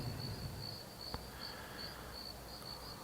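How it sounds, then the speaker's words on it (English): Steady crickets chirp in a repeating high pulsed trill throughout, faint and continuous with no voices over it. "I don't know how long the crickets go on for."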